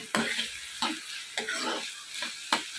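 Onions for a mushroom curry are stirred in a hot pan, with a crisp sizzle and a spatula scraping in a regular rhythm of about five strokes, close and fairly loud.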